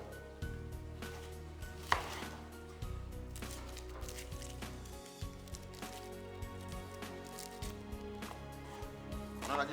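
Knife chopping onions on a board, a rapid series of close, crisp taps while preparing a baked white fish dish.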